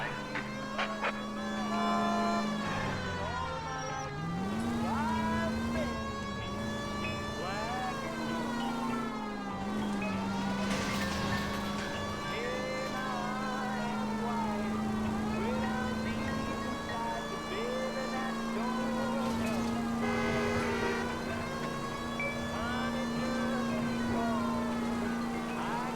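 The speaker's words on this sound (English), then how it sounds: "Hear the sirens." Police sirens wail continuously in rising and falling sweeps in the video game L.A. Noire, loud and layered over a steady engine hum, with some talk underneath.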